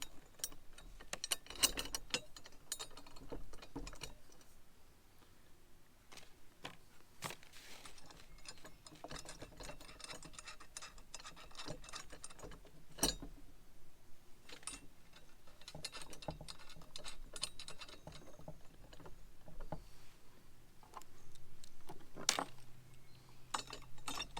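Ratchet tightening bolts on a MorRyde hitch stabilizer, faint rapid clicking pawl bursts repeating with pauses, interspersed with metallic knocks, quiet and close.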